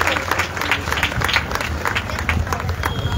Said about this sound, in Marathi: सगळ्या महिलांसाठी आपण टाळ्या वाजवूयात का?